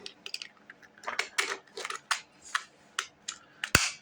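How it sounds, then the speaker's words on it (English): Jaguar key fob cover being snapped back onto the fob, a series of small close plastic clicks and rattles ending in one sharp, louder click, with no voices. "I'm going to put the cover back on."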